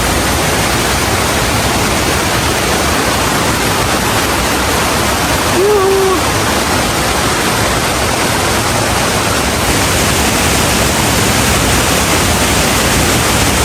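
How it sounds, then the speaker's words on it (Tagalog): Kaparkan Falls, a seasonal waterfall in the Philippines, roaring as a dense, loud, unbroken rush of falling water that fills the whole scene, with a brief faint sound partway through. "Kakaiba talaga ang Kaparkan Falls mga boss."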